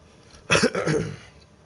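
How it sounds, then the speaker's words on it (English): A person coughing up close indoors, a loud burst of a few rough, throaty coughs that trail off after about a second, with no other sound around it. "And you coughing?"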